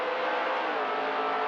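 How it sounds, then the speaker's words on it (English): NASCAR race cars roar back up through the gears on a green-flag restart, a dense, continuous engine howl that stays loud and steady throughout with no voices over it. "And with the green flag, Jarrett followed by Leffler as they head back up through the gears"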